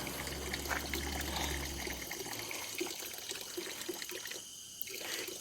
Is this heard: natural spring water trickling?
yes